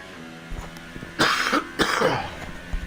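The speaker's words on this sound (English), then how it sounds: "I will be coughing all the way through this race." A person coughs and clears their throat in two harsh, close bursts, with softer throat noises before them, heard over faint background sound of a sim racing broadcast.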